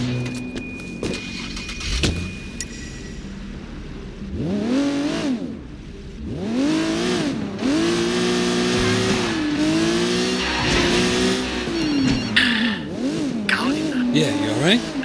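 Car engine in the Sleeping Dogs video game revving and accelerating through repeated rising and falling pulls, loud and close, with a few brief clicks early on.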